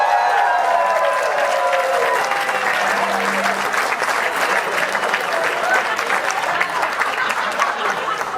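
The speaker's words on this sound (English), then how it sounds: "a round of applause for the class of" A large alumni awards audience applauds a reunion class, a loud, continuous wash of clapping from a big crowd that holds steady throughout without pause.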